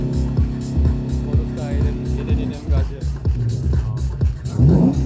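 A 500-horsepower rear-wheel-drive car at a drift show in Kraków revs its engine loudly and aggressively in repeated bursts, while an announcer talks continuously over a crowd.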